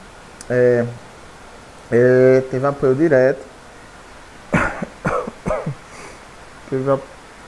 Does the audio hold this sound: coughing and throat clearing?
yes